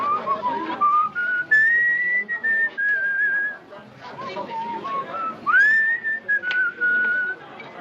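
A person whistles a tune up close, a clear wavering melody of sliding and held notes with short pauses between phrases, set against faint background noise.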